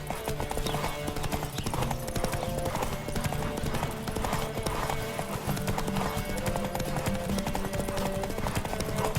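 Steady clip-clop of a horse's hooves galloping in the video game The Witcher, in a fast, continuous rhythm, with an occasional whinny and faint background music throughout.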